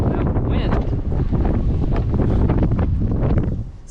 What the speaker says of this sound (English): Oh boy, that wind.